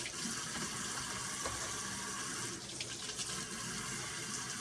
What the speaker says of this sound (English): Give them a little rinse anyway, then.